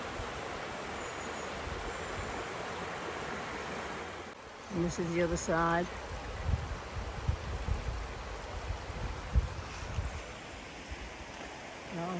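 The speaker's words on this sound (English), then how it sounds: "just to come to this bridge to have a look at this river" River flowing beneath a bridge on a Win Hill circular walk, a steady broadband rush of water that persists throughout, with a brief spoken remark partway through and some wind or footstep bumps.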